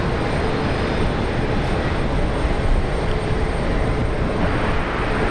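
China Eastern flight 716, a heavy airliner departing Brisbane Airport's runway 19 right, gives off a powerful, unbroken engine roar that is loud and near for the whole stretch, with no voices over it.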